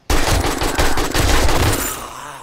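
Rapid machine-gun fire in the survival game 7 Days to Die, a loud continuous burst of close shots lasting about two seconds, trailing off at the end.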